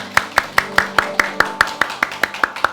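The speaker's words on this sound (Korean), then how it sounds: "우리 모든 축하하신 분들 같이 박수로 환영해 주십시오" Slow, evenly spaced hand claps ring out one after another in a church service as guests are welcomed, about a dozen sharp claps in a steady rhythm over a low background.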